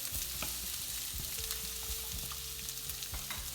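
Onions cooking slowly in a pan with salt, a steady close sizzle and frying crackle with occasional stirring knocks and scrapes throughout.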